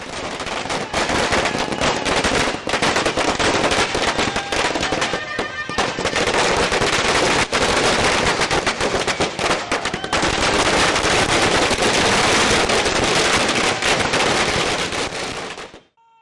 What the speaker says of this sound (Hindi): भारतीय जनता पार्टी ने सावरलाल जाट के मंत्री बनते ही गांधी भवन चौराहे पर शानदार आतिशबाजी करते हुए